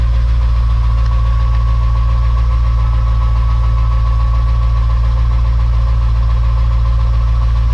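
A truck engine idles steadily at close range, a loud, even diesel rumble with a faint ticking knock throughout.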